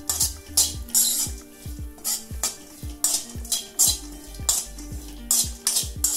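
Walnuts roasting in a pan of heated ghee, stirred with a spoon that clinks and scrapes against the metal in a regular rhythm over a soft sizzle.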